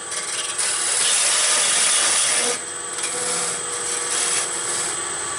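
Lathe tool pushed straight into spinning wood while turning a goblet with captive rings, a close hissing, scraping cut that swells, drops briefly, then resumes, with no talk.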